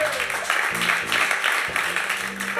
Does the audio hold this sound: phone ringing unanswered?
no